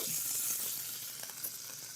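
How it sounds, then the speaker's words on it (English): Butter sizzles in a hot pan alongside a steak, a steady soft hiss and crackle at low volume with no voices. "we're going to add a little bit of butter"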